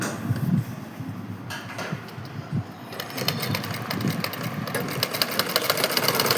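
A sewing machine runs in a steady mechanical whir while top-stitching a salwar, near and continuous, with faint rapid ticking growing more pronounced toward the end.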